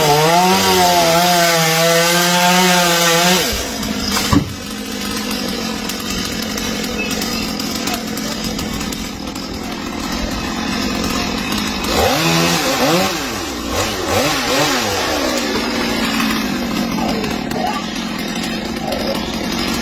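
A chainsaw roars continuously as it cuts through a tree trunk, the engine pitch rising and dipping as the blade bites, loud and close throughout.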